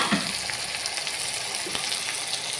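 Potatoes frying in a pan for a quick potato fry, a steady close sizzle with soft bubbling crackle throughout, alone without talk.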